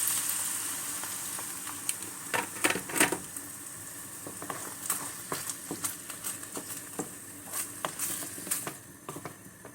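Tantuni meat frying in oil with water just added, a soft continuous sizzle broken by scattered crackling pops and spatters, close and moderately quiet.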